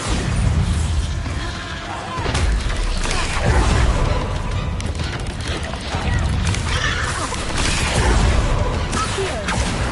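Explosive Bombarda spell blasts in Hogwarts Legacy, dense booming bursts over a constant clatter of game combat noise, with a voice talking throughout.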